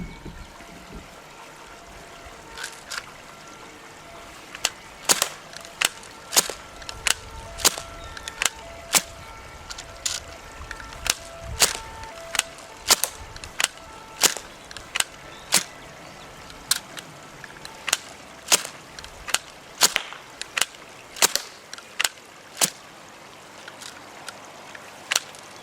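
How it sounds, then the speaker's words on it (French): An MCI3D airsoft bow prototype fires BBs as fast as possible, producing a long series of sharp, loud snapping shots in quick irregular succession over a faint mechanical rattle, with no talk. "je vais essayer de tirer le plus vite possible pour voir ce que ça donne"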